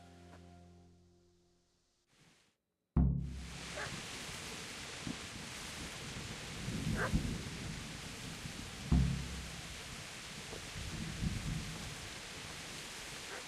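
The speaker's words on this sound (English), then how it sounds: "this rain feels like actual, like it sounds like it would be actual rain" Steady broadband rain hiss in a horror video game begins abruptly after a brief near-silence, with low rumbling swells of thunder rolling through at intervals, continuous and fairly loud.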